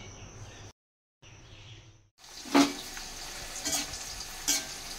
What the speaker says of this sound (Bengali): এখানে কয়েকটা পাঁপড় ভেজে নিচ্ছি